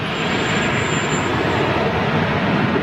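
A United airliner jet departs with a loud, steady, broadband roar that stays constant throughout, close and without any voices.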